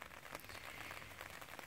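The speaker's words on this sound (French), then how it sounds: "Il pleut." Rain patters on a tarp at a camping bivouac, a faint, steady hiss of many small drops with a few slightly sharper taps, with no other sound over it.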